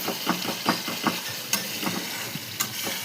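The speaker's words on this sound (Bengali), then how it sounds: "তাই ভালো করে মশলাটা কষিয়ে নিলাম, আর একটু গরম মশলার পাউডার দিয়ে দিলাম।" Spice paste for a giant river catfish curry stir-fried with garam masala powder, a spatula scraping the pan in steady rhythmic strokes over a soft continuous sizzle, with a couple of sharper clinks.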